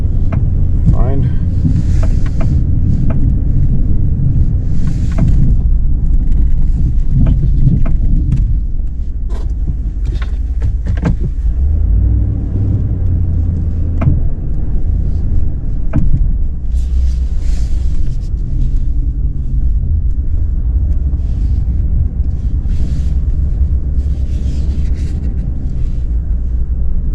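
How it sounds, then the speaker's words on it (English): Ram 2500 with the 6.4L engine and an Arctic Poly V blade idling while plowing snow, a steady low rumble throughout with someone talking over it. "Great truck to plow with, all kinds of power. I mean, you're essentially just idling anyways."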